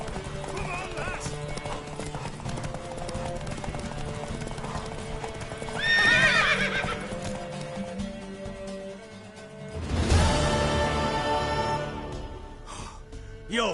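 Horse hooves clip-clop at a gallop in The Witcher 3 game, with a loud whinny around six seconds and another strong neigh near ten seconds, over continuous game background sound.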